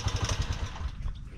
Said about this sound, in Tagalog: Lakas ang tawa ng motor mo.